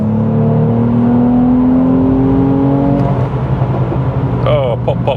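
A 400 hp Mercedes C43 AMG holds a loud engine drone that falls away as the throttle is released, followed near the end by a brief cluster of crackling exhaust pops, heard from inside the car with a voice talking.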